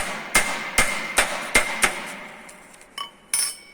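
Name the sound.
cross-pein hammer hammering sheet metal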